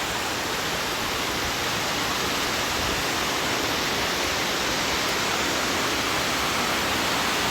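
A waterfall rushes in a steady, dense wash of white noise that stays constant throughout, with no voices.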